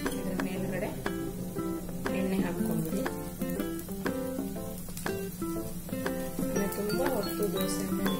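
A ragi dosa fries in oil on a pan, giving a soft, crackling sizzle under a voice as she talks over the cooking.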